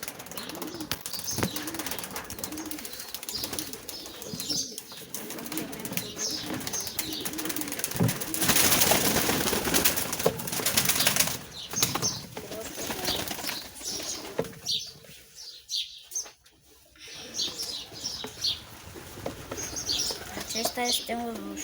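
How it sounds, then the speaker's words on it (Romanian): Pigeons belonging to a Romanian pigeon fancier coo softly and flutter their wings, a steady mix of low cooing, chirps and bursts of flapping, with someone speaking over much of it. "vreau să vă arăt porumbei care le-am luat"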